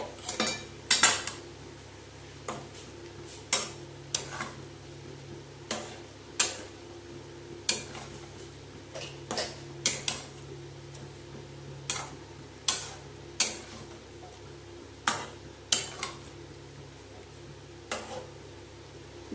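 A spatula scrapes and clinks against a pan while chal potol curry is stirred with ghee, giving sharp irregular metallic taps about once a second over a faint background hum, with no voices.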